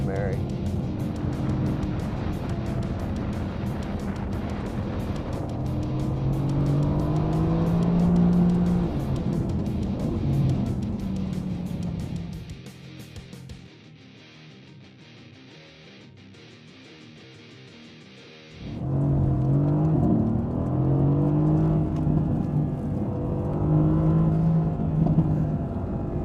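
A 2016 Mercedes-AMG GT S sports car drives with a loud engine drone and rising revs under a voice, drops to near quiet for several seconds, then the engine surges back up.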